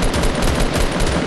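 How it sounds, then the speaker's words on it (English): Rapid automatic gunfire in a 50v50 shooter video game, a loud, dense burst of continuous shots close up with no pauses. "keep shooting that wall, dickhead. Keep shooting that wall."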